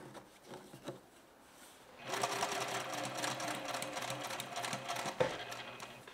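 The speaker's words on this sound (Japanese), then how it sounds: "これで返し縫いもなしに上端まで縫っていきます。" A sewing machine runs steadily, stitching fabric with long stitches of about 4 to 5 mm without backstitching, after quieter handling sounds at the start.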